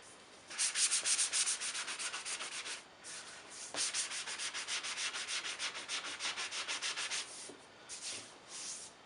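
A palm sander rubs against Bondo filler on a cabinet door in repeated back-and-forth strokes. The rhythmic sanding is close and fairly loud, with short pauses between passes and no talking.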